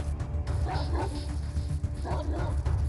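A dog yips and barks a few times in the post-apocalyptic video game Atom RPG, fairly faint over a constant low rumbling game soundtrack.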